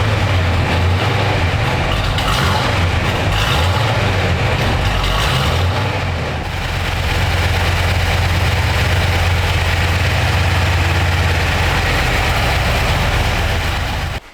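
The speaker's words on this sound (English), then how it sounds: "he's going to do a cold start here" A restored 1952 Ford F-1 pickup with a 350 V8 idles after a cold start, giving a loud, steady low rumble that holds close and constant throughout, with no talk.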